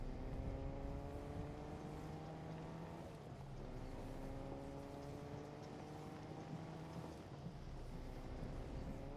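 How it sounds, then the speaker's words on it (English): Car driving in the video game Metaverse Millionaire, a steady droning engine with rising and falling pitch as it speeds along, accompanied by wind-like rushing noise, continuous and fairly loud with no talk. "And this car should get me out of here pretty fast."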